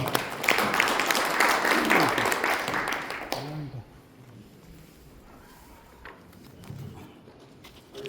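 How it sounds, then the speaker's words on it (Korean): An audience at a Korean seafarers' union spring forum claps for a newly elected chairman, with a dense burst of applause for about three and a half seconds that stops abruptly, leaving a quiet room with faint voices. "큰 박수 부탁드리겠습니다"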